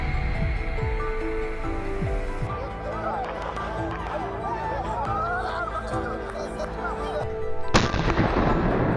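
Sharp hunting gunshot cracks ring out a few times in the mountains during a wild boar hunt in Turkey, amid steady background noise and scattered speech, with one loud report near the end.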